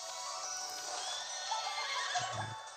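A horse neighs in the video game Miitopia on Switch, a whinny rising over steady game background sound, with a short low thump near the end.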